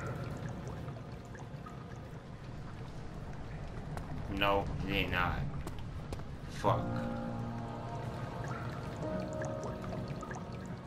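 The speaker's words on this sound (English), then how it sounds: "I'm pretty sure that should have stopped the water." Running water in Amnesia: The Dark Descent, a steady pouring rush under a man's speech, with a couple of louder splashing bursts midway.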